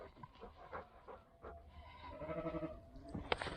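Several short bleats from nearby sheep, irregularly spaced over a low outdoor background, with one sharper call near the end.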